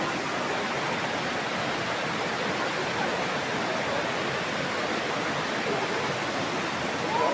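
Water pours steadily into a cave at Rishop, a dense, continuous rushing roar that stays loud and unchanging throughout, with no voices.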